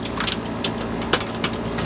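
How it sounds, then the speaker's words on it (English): Screws coming out of an HP 5800 circuit board during scrapping give a few sharp, separate clicks and taps over a steady low background hum. "take these screws out"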